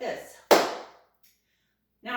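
A few sharp, crisp flamenco foot strikes, ball, heel, flat, on a hard floor, one loud slap followed by quieter taps, with a voice speaking just before.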